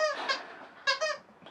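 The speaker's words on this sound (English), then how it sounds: "That noise you can hear, that's the dog playing with a squeaky toy." A dog plays with a squeaky toy indoors, giving two pairs of quick, high, nasal squeaks separated by a brief pause, moderately close and alone.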